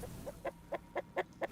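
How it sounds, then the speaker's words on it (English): Chicken clucking from a player transformed into a chicken in Destiny 2, a run of six short, evenly spaced clucks, fairly soft and with no talk over it. "We turned into a chicken."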